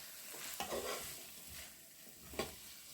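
Vegetables being stir-fried with oyster sauce in a wok for gochu japchae, quiet sizzling under a few sharp scraping stirs of a utensil against the pan.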